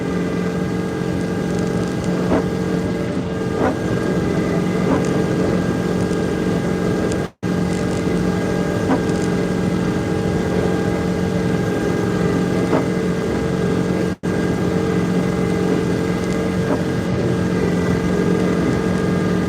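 A tuned, emissions-deleted Duramax diesel in a GMC Denali pickup runs at a steady, loud drone, its low rumble continuous for the whole stretch apart from two very brief dropouts.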